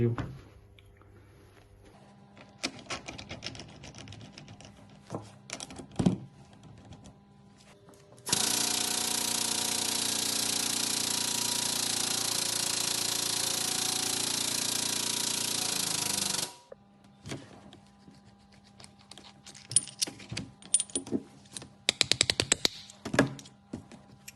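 Drill boring an 8 mm hole in sheet material, a loud steady whirring drone lasting about eight seconds, framed by clattering handling noises before and after.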